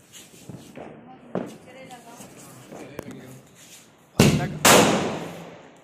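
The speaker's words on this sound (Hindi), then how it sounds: "ये ऊपर बैठ के पटाखे लगा रही है टोनी" Firecrackers set off the day after Diwali, two sharp close blasts in quick succession, each followed by a brief crackling decay, coming after stretches of people talking and shuffling nearby.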